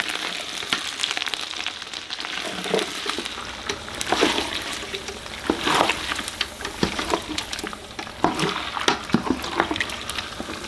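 Deer tallow melts in a pot while being stirred, giving a steady bubbling, sizzling hiss with soft liquid trickles and occasional scrapes and clinks, fairly close and continuous without talk.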